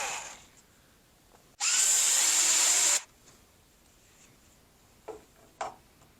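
High-speed rotary tool drilling a broken radiator bolt lets out one loud, shrill whine lasting just over a second, close by, with a few faint taps afterward and no talking.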